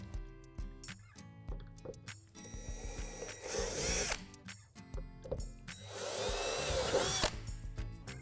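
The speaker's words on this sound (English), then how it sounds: "On the right wall panel, we're going to drill out 2 divots underneath the opening." A power drill bores two divots into the plastic right wall panel of a Lifetime playhouse in several bursts, rising to high whirring spells with short pauses and ratcheting clicks, close up with no talk.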